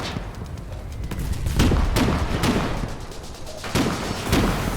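Gunfire in the Foxhole war video game, with loud repeated shots and thumps over a dense, rumbling battle bed, irregularly spaced across the whole stretch.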